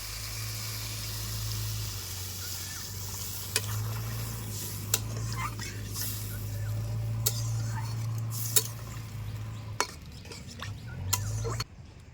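Sautéed vegetables in a pan for a fish curry are stirred after water goes in, giving a soft sizzle over a low steady hum, with sharp metallic clicks of a spoon against the pan every few seconds.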